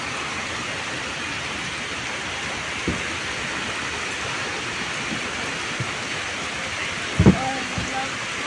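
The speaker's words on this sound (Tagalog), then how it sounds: "Pagkahapon, bigla na lang umuulan." Steady afternoon rain falls in Siargao with a constant hiss, a few brief knocks and a short squeak near the end.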